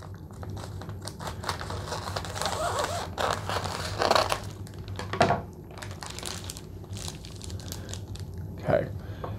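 Scissors snip along the heat-sealed seam of a chip bag, giving a series of crisp, close cuts and crinkles with short pauses between them, set against quiet room noise.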